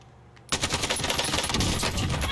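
Rapid automatic AK rifle fire in the video game Warzone bursts in after a brief quiet lead-in, a dense, loud, sustained rattle of shots continuing without pause to the end.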